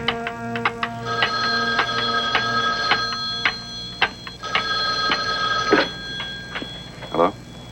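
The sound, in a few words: telephone ringing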